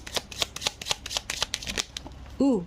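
Tarot cards are shuffled and handled in a rapid run of crisp riffling slaps, followed by a brief tonal sound at the end; quiet and close, with no talking.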